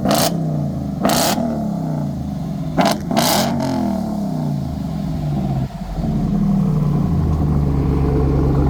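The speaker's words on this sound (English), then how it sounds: "That's the AWE exhaust." Loud, deep AWE aftermarket exhaust on a Ram TRX pickup truck idles close by, punctuated by a few sharp revving blips.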